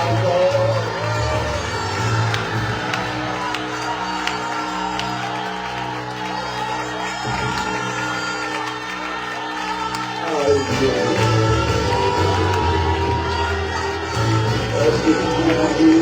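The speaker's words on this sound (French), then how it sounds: "Est-ce que tu peux crier Hosanna encore?" A church congregation shouts in unison again, a loud crowd roaring and cheering over continuous music, with a leader's voice audible among them.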